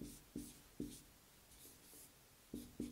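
Chalk or marker strokes on a board during a math lesson on complex numbers, a handful of quiet, close, scratchy taps in an irregular rhythm with brief pauses between them.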